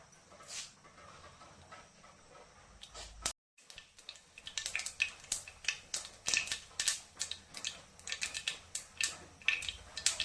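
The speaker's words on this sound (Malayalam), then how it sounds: "എണ്ണയൊക്കെ നന്നായിട്ട് ചൂടാകട്ടെ നമുക്ക് കടുകിട്ട് കൊടുക്കാം" Mustard seeds crackle and pop in hot oil in a pan, starting with scattered snaps, a brief pause, then a dense run of rapid close popping bursts, with no voices.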